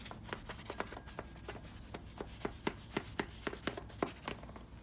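A blade cuts through a rock wool starter sheet, slicing it into small squares, a quick series of soft, close rasping strokes that comes in a steady, repeating rhythm with no voice.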